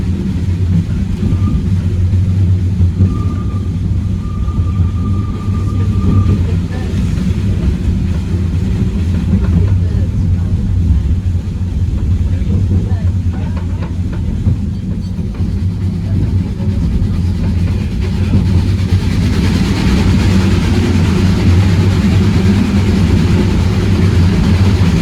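NGG 16 Garratt steam locomotive hauling a ten-coach train into a tunnel on a steep gradient of the Welsh Highland line, a heavy continuous low rumble and engine drone heard from aboard the train, steady and loud throughout.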